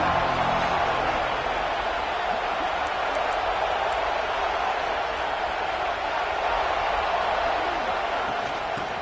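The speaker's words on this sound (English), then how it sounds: "This crowd ready to make its presence known." Stadium crowd at a college football game, a broad steady roar filling the whole stretch with no individual voices standing out, distant and continuous.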